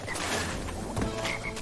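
A frog enemy croaks in Crash Bandicoot Warped, its repeated throaty croaks sitting over busy game music and effects for under two seconds.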